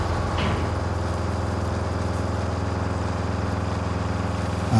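A bulldozer engine in the RoadCraft game rumbles with a steady, low, droning idle that continues unbroken, loud and close, with a faint click near the start.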